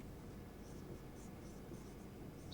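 Writing on a board during a thermodynamics lecture: faint, short scratchy strokes come in a loose series over a low room hum, with no voices.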